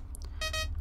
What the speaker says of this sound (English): even though that beeping is super annoying